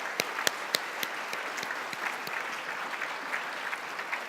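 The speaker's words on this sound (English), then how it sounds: "So please give your global board a great round of applause." An audience at a corporate gathering claps steadily for several seconds, with scattered sharp individual claps standing out from the continuous applause in a large room.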